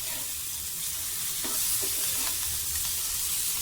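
Kokkara fish fries in hot oil with a constant, bright, crackling sizzle that stays close and even from start to finish, with a few soft stirring taps.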